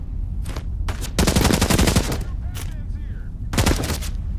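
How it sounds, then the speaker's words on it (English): Enemy gunfire in Into the Radius 2 comes in rapid automatic bursts, several loud volleys of sharp cracks separated by short pauses, fired close by with a few single shots between them. "They're behind that fence shooting through"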